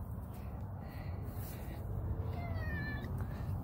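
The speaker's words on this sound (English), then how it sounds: "Oh, what a little meow." A stray cat meows softly a few times, thin rising cries over a steady background hum.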